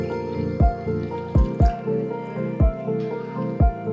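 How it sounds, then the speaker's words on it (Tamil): Water is poured in short bursts into ground mint paste for pani puri, making several distinct splashing glugs about once a second over a steady liquid hum, close and clear. "இனி இதல தேவையான அளவுக்கு நம்ம தண்ணி ஆட் பண்ணிக்கலாம்"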